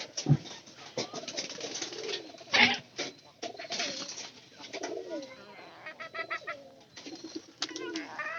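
Pigeons cooing at a bustling bird market, soft repeated throaty coos scattered among clatter and background chatter, fairly faint and irregular throughout.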